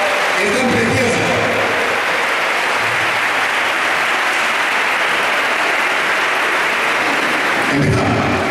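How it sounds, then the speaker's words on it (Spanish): Sustained applause from an audience greeting young performers at a show, loud and continuous for several seconds with a brief swell near the end. "Un fuerte aplauso para nuestras estrellitas, que están preciosas."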